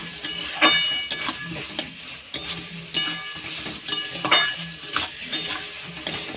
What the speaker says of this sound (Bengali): আলু ভালো করে কষিয়ে নিয়েছি